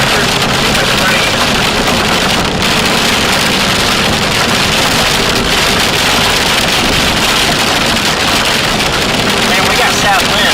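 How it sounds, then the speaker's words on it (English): Heavy rain pours down during a severe storm in Oklahoma, a loud, dense, continuous roar with strong wind buffeting the microphone and a vehicle engine rumbling underneath, as people talk over it. "there's too much rain"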